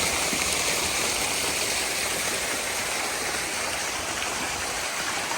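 Recirculating water fountains at a wedding and event venue entrance, five adjustable jets, give a steady, dense, continuous splash and rush without pause, fairly close and even in level throughout.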